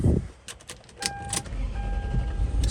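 A 2001 Lexus LX470 SUV cranks and starts after brief key and cabin clicks, a short starter whir with chimes leading into a low steady idle, heard close from inside the vehicle.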